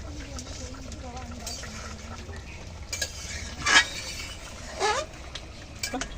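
Small puti fish with vegetable stalks, potato and malabar spinach stirred in a pan after ginger paste is added: a soft, steady scraping and stirring with a few clinks of utensil against the pan, under faint talk.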